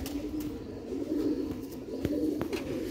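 Black-mouthed pigeons coo steadily in a low, rolling rhythm, close and moderately loud, with a few sharp ticks and rustles over the cooing.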